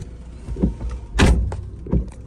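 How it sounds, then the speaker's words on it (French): A Renault Clio IV Intens door shuts: one solid, close thump stands out among softer knocks and rustles inside the car. "Je vais fermer la porte."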